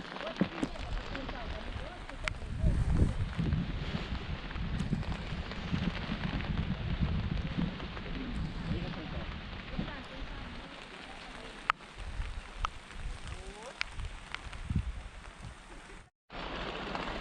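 Rain falling on a misty mountaintop garden at Phu Thap Boek in the rainy season, a steady close hiss of drops on surfaces that continues throughout, briefly cutting out near the end.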